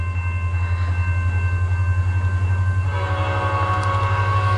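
A Norfolk Southern westbound train rolls past in Fostoria, Ohio, with a loud, steady low rumble and continuous wheel and rail noise that grows slightly brighter toward the end, with no talking.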